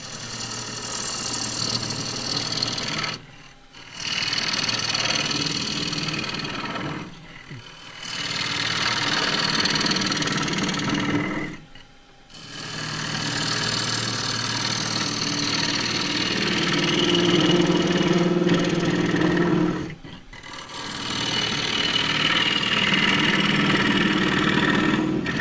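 A wood lathe spinning a claret ash vase while a 3/8 deep fluted gouge cuts, a loud continuous whirring and shaving hiss broken by several brief pauses where the tool lifts off the wood.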